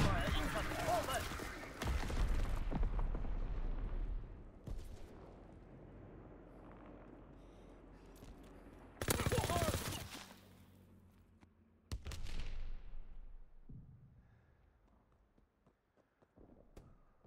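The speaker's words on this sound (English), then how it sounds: "Enemy mortar fire incoming!" Enemy mortar fire in the World War II shooter Call of Duty: WWII lands as several heavy booming blasts spaced across quieter stretches, with voices talking between them.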